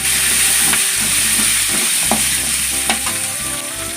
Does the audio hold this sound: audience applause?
no